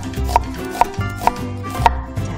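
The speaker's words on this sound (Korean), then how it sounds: "한 1mm에서 2mm 정도로 가늘게 채를 썰어 주세요." An onion being sliced into thin 1–2 mm strips with a knife, giving four evenly spaced crisp cuts that land on the board about every half second, close and clear with no talk.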